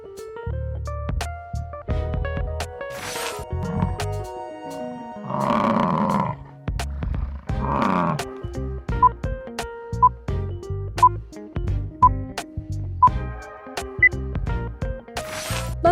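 A buffalo gives two low, rough bellowing calls in the middle of the clip, each lasting about a second, over steady background music.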